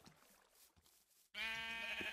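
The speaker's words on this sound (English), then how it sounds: "It's just sheep murder going on over here." A sheep in the Minecraft video game bleats once, loud and close, in a sustained wavering cry that breaks in after a quiet, faintly rustling stretch.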